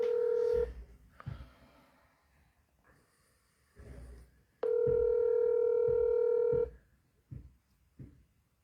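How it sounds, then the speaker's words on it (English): Telephone tones sound while a call is placed: a short tone burst, then a longer steady tone lasting about two seconds, with quiet gaps, breaths and faint knocks in between. "I'm calling him right now."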